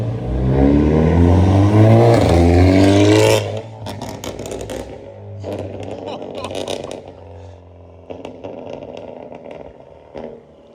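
A loud, throaty modified exhaust on a Hyundai Elantra N roars for a few seconds, then the car drives by more quietly with voices talking over it.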